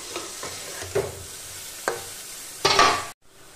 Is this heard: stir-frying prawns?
yes